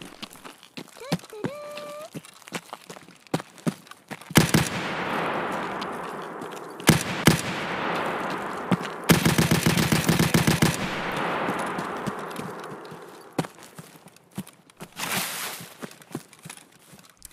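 SKS rifle fire in Escape From Tarkov, several loud close bursts of rapid shots with quiet gaps, rustling movement and scattered clicks, and someone talking at times between the shots.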